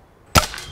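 A springer air rifle fires a single sharp shot from close by, a short crack followed by a brief ringing tail.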